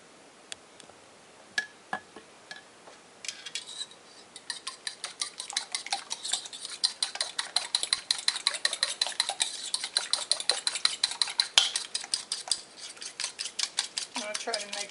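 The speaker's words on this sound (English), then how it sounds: "And this is kind of a noisy dish to be mixing while I'm filming." Spiced French toast batter is whisked in a bowl, a fast, steady run of sharp clinking taps from a utensil striking the dish that starts sparse and becomes rapid and rhythmic, loud and close with no talking.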